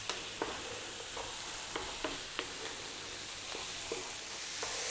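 Spices with cumin frying in a pan over heat just above medium, stirred often: a steady, fairly soft sizzle punctuated by scattered light clicks and scrapes of the spoon, with no talking.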